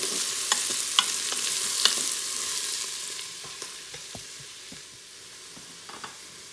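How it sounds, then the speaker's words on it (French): Vegetables for ratatouille browning in a Cookeo multicooker, a soft sizzle with scattered spatula scrapes and clicks, fairly quiet and without talk. "On met vraiment tous les légumes hein, à cuire."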